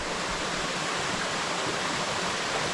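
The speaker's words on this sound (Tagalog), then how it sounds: "Yung tubig sa ating falls ngayon medyo maganda pagtingnan kasi malakas." A powerful waterfall roars steadily, a dense, unbroken rush of falling water with no voices.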